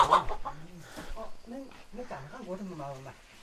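Chickens being caught to be slaughtered cluck and squawk loudly and close by on a rural farm, near a pig pen and coop, with voices mixed in.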